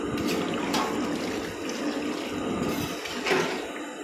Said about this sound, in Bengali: তাই একটু বেশি জল দেবো